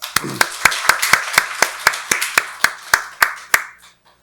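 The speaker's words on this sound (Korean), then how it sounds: "박수로 하나님께 영광 돌리겠습니다." A church congregation claps during a Sunday worship service. The claps are sharp and come in a steady, regular beat, about one clap every quarter second, for roughly four seconds before they stop.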